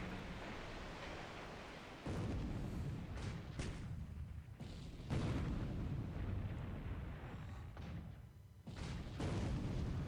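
Naval battle in a World War II strategy game set in February 1942, Japan against the Allies: deep booming shell fire and explosions land in several heavy thuds over a continuous rumbling noise bed, fairly faint overall.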